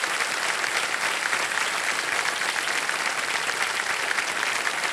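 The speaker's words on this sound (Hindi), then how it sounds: "जोरदार तालियां बज जाए इनके लिए।" Studio audience applause on the KBC game show set, dense sustained clapping at a steady, loud level throughout with no voices rising above it.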